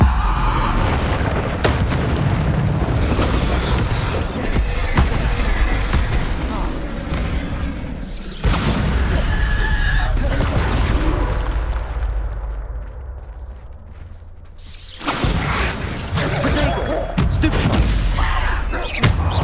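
Bombarda explosion spells from the Hogwarts Legacy video game boom repeatedly amid loud battle noise, with heavy thuds and crackling blasts in several bursts, a quieter stretch midway, and talking mixed in.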